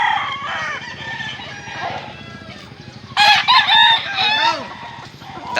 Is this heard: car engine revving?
no